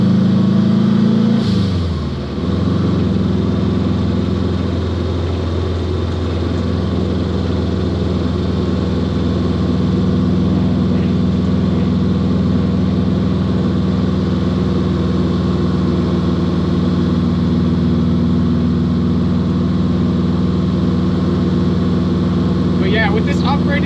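A car engine tuned with Mega Squirt, running steady and loud throughout, with a low rumble that dips briefly near the start and then holds at a constant drone while driving over a rough road.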